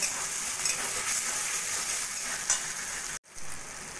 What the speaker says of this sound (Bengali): আলুটাকে মশলার সঙ্গে ভালো করে কষিয়ে নেব।